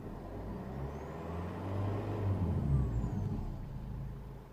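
A badly neglected Lexus IS220d diesel engine runs with a steady low rumble that swells slightly as it revs, heard close and fairly loud, with a faint high whine above it.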